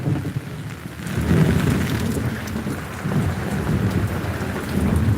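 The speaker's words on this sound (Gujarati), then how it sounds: "વહરાત પડે એટલે કડાકા થયા એટલે જબ્બર કડાકા થયા" Heavy rain pours steadily during a storm in Anand, India, with deep rolling thunder rumbling loudly through the whole stretch and no voices.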